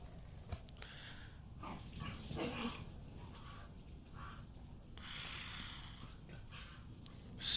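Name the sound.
dogs playing and barking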